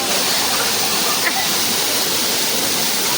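Daaragedda waterfall in a rural setting, its water pouring in a steady, loud broadband roar that fills the whole stretch without a break or pause.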